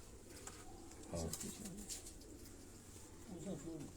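A Sialkoti breed pigeon coos softly in a few low, rolling phrases, faint against steady background noise, with a voice speaking nearby.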